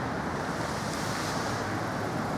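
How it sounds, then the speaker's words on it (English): Water fountains splash in a dense, steady wash of noise, loud and close, with wind buffeting the microphone and no talking. "And here are the fountains."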